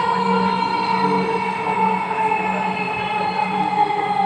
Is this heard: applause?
no